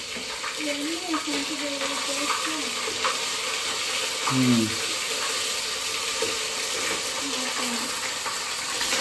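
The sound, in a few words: ginger-garlic paste frying in hot oil for mutton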